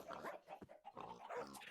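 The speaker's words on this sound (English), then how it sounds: "Whenever it's the same dog sound over and over again from each one" Dogs barking in Minecraft, several barks and yips in quick irregular bursts, close and fairly loud, with no talking over them.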